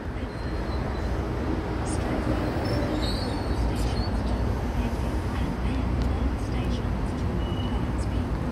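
A Hornsby-bound train departs platform 1 at Milsons Point station, giving a steady rolling rumble with occasional faint wheel squeals. It stays at moderate level throughout, and voices are heard over it.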